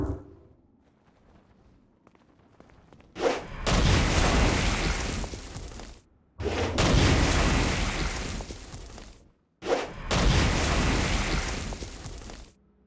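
Three heavy booming blasts of the Stone Blast attack in Saints Row: Gat Out Of Hell hit in sequence, each a sudden roaring burst lasting a couple of seconds before cutting off to near silence.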